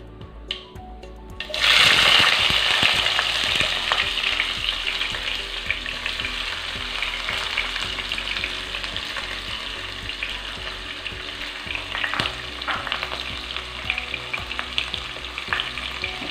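Cumin and chopped onions frying in a pan for a potato fry, a loud steady sizzle that flares up early and carries on with repeated stirring scrapes, no voices.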